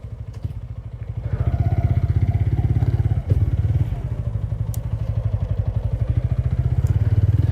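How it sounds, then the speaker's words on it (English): A motorcycle warms up at a close, loud, steady idle, its rapid pulsing beat holding evenly across the whole stretch with one brief thump partway through. "let the bike warm up a bit and then we'll bounce"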